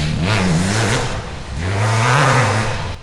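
A Beta RX350 two-stroke enduro motorcycle revs hard up close, its raspy engine note rising, dropping briefly, then climbing again in a second strong pull.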